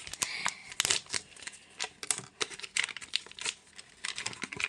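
A unicorn face mask package is torn open, sharp crinkling and rustling of plastic and paper in quick irregular bursts, close and moderately loud, with no talk.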